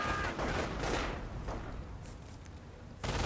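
Gunfire from the Company of Heroes strategy game: a dense, continuous fusillade of rifle and machine-gun shots with a sharp new burst near the end, loud and steady throughout.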